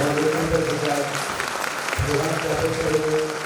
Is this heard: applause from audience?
yes